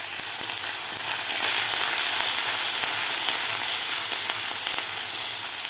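Grated ginger, garlic and asafoetida sautéing in hot oil for a cauliflower bhurji, a loud, dense, continuous sizzle that stays even from start to finish, with no talking.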